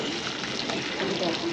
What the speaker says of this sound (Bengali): তেলের ভিতরে পেঁয়াজ দিয়ে দিলাম।